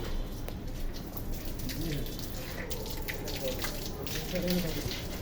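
Water splashes and pours steadily while a sacrificial cow is bathed outdoors, a continuous wet wash with faint birds and people talking in the background.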